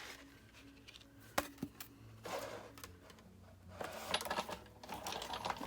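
A card is run through a die cutting machine, giving faint scattered clicks and clacks, two sharp taps early on, and a low crank rumble that builds toward the end.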